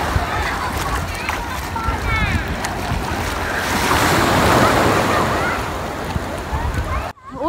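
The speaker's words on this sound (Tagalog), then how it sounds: "Lalaki ng alon na." Big ocean surf breaks and rolls onto the shore in a loud, continuous roar that swells in the middle, with wind buffeting the microphone and a few people talking over it before it cuts off abruptly.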